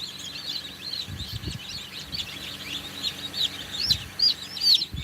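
Twenty-day-old chicks cheep continuously in high, rapid chirps, forming a busy chorus with a few short low thumps and handling noises mixed in.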